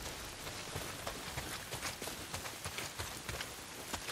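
Heavy rain in the video game Days Gone, falling steadily as a dense, continuous patter with irregular heavier drops, moderately faint and with no voices.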